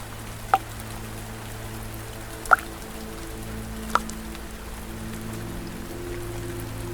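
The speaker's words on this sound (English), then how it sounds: "The canvas is darkened by rain, and it sags slightly between the wooden ribs, holding small pools of water that drip slowly at the edges." Water dripping slowly from sagging, rain-darkened canvas stretched between wooden ribs, three separate soft plips spaced about two seconds apart over a steady low background hum.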